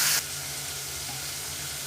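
Beans fry in a pan with a steady, bright, close sizzle and hiss that carries on without a break.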